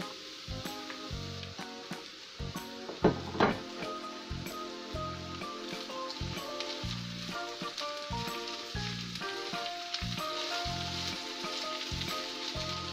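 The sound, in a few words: chicken frying in a pan with onion and garlic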